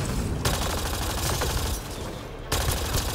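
Sustained gunfire from the Mass Effect Andromeda game on PS4, dense rapid shots running continuously and loud, with a brief dip in intensity before the barrage resumes.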